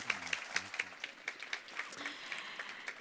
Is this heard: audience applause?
yes